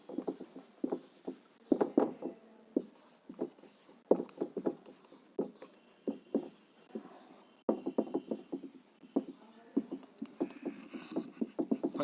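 A pen or marker writes an equation by hand on a board or paper in short scratchy strokes, repeated in bursts with small pauses. Someone speaks Hindi quietly in places.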